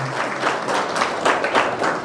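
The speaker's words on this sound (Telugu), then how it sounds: "ఒకసారి చప్పట్ల ద్వారా మీ అందరి ఆమోదాన్ని" An audience at a public gathering breaks into applause to show approval, a dense, fairly loud patter of many hands clapping together that swells in waves across the whole stretch.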